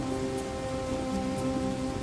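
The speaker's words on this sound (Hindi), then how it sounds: "बाहर अब भी मूसलाधार बारिश हो रही थी" Heavy rain pours down in a dense, constant wash of patter, steady and close from start to finish, with no talking.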